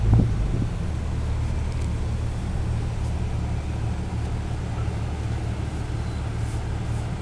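A 2004 Dodge Ram 3500 Laramie crew cab dually with a Cummins 5.9 turbo diesel drives on a test ride, a steady low engine rumble and road drone heard from inside the cab with wind noise, no talk.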